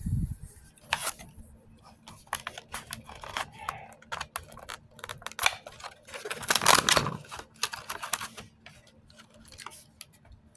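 Matchbox toy car being unpacked from its retail packaging, with close crinkling, tapping and tearing of plastic and cardboard in irregular bursts, louder around the middle.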